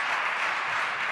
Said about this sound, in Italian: Ti faccio ascoltare l'applauso della Sara Alessi